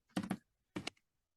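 Two quick bursts of typing on a computer keyboard, a cluster of soft clicks followed by a shorter flurry, close and quiet with silence between and after.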